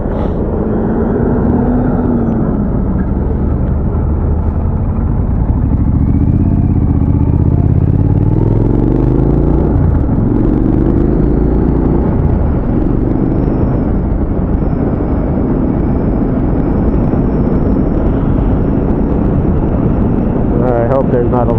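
A 2017 Triumph Street Scrambler motorcycle rides along a twisty road, its engine droning and rising and falling through gear changes, heavily mixed with rushing wind buffeting the microphone, loud and continuous throughout.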